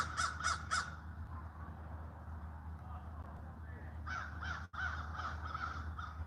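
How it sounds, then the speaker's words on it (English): Several crows caw outdoors in a residential Florida retirement community of courtyard villas, with a burst of three harsh calls at the start and a longer run of repeated caws later, over steady background hum while someone talks. "Oh, there's the crow right up there."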